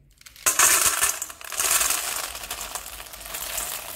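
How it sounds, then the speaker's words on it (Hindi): Stored green peas pour and rattle in a container like marbles, a dense burst of hard clicking that starts abruptly, then continues as a softer skittering shuffle, close and moderately loud. "मटर का साउंड तो आपने सुन ही लिया होगा और मटर एकदम खिली रहेगी और एकदम कंचे जैसा साउंड आएगा"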